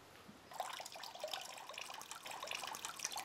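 Water drains out of a plant root ball after it has been soaked in a container, starting as a quiet trickle and turning into a steady dribbling, splashing flow with small drips, fairly close.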